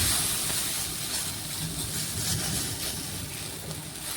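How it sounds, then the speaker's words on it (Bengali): Okra being dry-fried in a pan for a vegetarian dish gives a steady, broadband sizzle that stays fairly loud and even throughout, with no talking. "একদম ভেন্ডিটা একটু শুকনো শুকনো করে ভেজে নিচ্ছি।"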